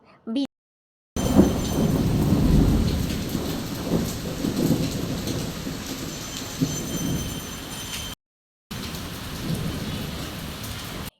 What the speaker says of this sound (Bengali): দেখো এত ঝমারে বৃষ্টি হয়েছে পুরো রাস্তা একদম